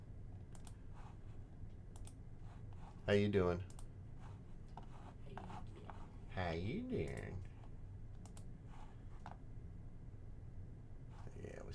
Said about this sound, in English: So just doing a lot of clicking.